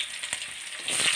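Crushed and cut garlic with a little onion frying in a pan, a close steady hiss of sizzling oil that grows slightly louder toward the end, with a few soft stirring scrapes.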